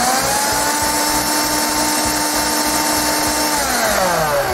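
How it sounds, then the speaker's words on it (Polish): An AEG Ergorapido cordless vacuum cleaner runs without its turbo brush, a loud steady motor whine with an airy rush that drops slightly in pitch near the end, close and continuous with no talking. "Odkurzacz możemy wytestować, włączając bez szczotki turbo"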